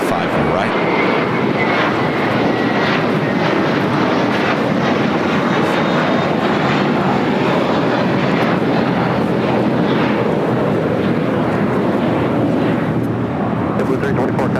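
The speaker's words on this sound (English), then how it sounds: "JetBlue Airways flight 324 heading to JFK and A321 now taking off to 5 right" A JetBlue Airbus A321 bound for JFK takes off from LAX runway 5 right, its jet engines roaring loud and sustained with broadband rumble and wind buffeting, while a voice talks over the noise.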